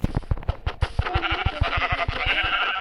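Sheep bleat repeatedly in a video game over a steady patter of rhythmic thumping footsteps, close and fairly loud, with game background sounds.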